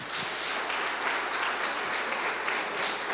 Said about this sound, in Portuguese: Podemos dar uma salva de palmas, Senhor Jesus?